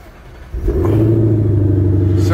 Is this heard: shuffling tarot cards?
no